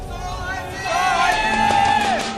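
Crowd of esports fans at a StarCraft 2 match cheering and murmuring, the noise swelling and growing louder partway through, with sustained whoops rising above the steady hubbub.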